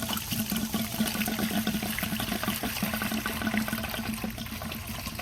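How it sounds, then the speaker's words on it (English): Vinegar water drains out of a motorcycle radiator during a coolant change, a steady, close splashing and gurgling pour that runs unbroken for several seconds with no voices. "Now I'm going to drain it and do it one more time with the vinegar water."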